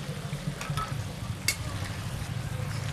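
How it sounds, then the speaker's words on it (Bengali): Egg curry gravy with whole green chillies boils in a pot at an outdoor winter picnic, giving a steady, close bubbling simmer with a low rumbling undertone and a few sharp ticks and pops scattered through it, with no voices. "এই যে ডিমের কারি ঝোলটা বেশ ফুটে উঠেছে"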